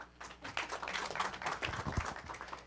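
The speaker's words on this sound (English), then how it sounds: "Applause." Audience applause following the introduction of speakers from a robotics and AI company at a robotics innovation event, a steady, fairly dense clapping that holds for nearly three seconds at moderate level with no talk.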